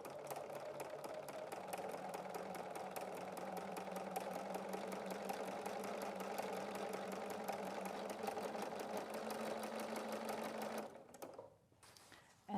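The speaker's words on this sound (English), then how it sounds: "Then I'll raise the presser foot and place the fabric that's going to be flat completely under. and begin to sew." Bernina sewing machine running steadily with a ruffler foot, pleating fabric and sewing it to a flat layer, a close, even mechanical whir with rapid rhythmic stitching for about eleven seconds before it slows and stops.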